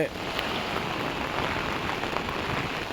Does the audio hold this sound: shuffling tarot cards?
no